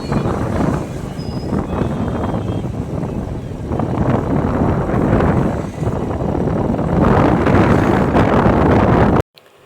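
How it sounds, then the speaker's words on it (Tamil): Strong wind roars continuously against the microphone during a night ride, a dense buffeting rush that swells and dips before cutting off abruptly at the end. "செம்மையாக காற்றடிக்குது"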